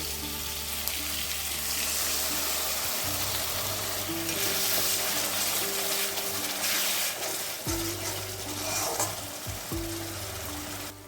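Whisked sour yogurt added to chicken do pyaza frying in a pan, a loud continuous hissing sizzle with stirring scrapes, and a low steady hum running beneath it.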